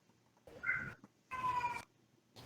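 A female cat gives two loud, drawn-out meows indoors, close by, separated by a short pause. The second cry is longer and more strained, like a yowl, and no one talks over it.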